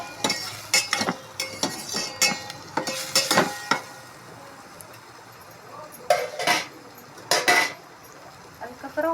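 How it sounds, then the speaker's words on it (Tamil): Turmeric powder sautéing in a pan, with a utensil clinking and scraping against the metal in uneven bursts over a faint background sizzle, close by. "மஞ்சத்தூள் போட்டு நல்லா வதக்கி விட்டுக்கலாம்."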